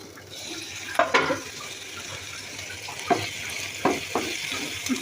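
Prawns being washed under a running kitchen tap: a steady hiss of flowing water with several sharp splashes and clatters as the shrimp are rinsed.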